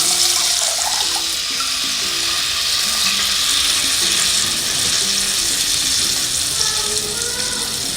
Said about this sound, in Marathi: तीन वाट्या पाणी घेतलं आहे ते हळूहळू यामध्ये मी असं घातलेलं आहे